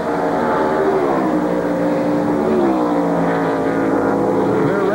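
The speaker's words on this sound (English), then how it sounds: "That's a lap car, and I think is that Mark Martin just coming by the" NASCAR stock cars at the 1993 Budweiser at the Glen road course race, a loud continuous engine drone with shifting pitch as cars pass, heard under race broadcast commentary.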